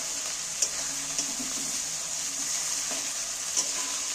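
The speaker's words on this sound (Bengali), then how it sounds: "এইবার এই পেঁয়াজের সাথে একটু নাড়তে থাকবো, নাড়লেই কিন্তু এ থেকে তেল বেরিয়ে থাকবে।" Onions frying and being stirred in fish oil in a wok: a steady, close hiss of sizzling, with a few faint clicks of the spatula scraping the pan.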